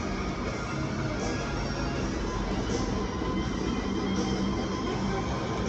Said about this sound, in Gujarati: રીકીની ટ્રેન જાય છે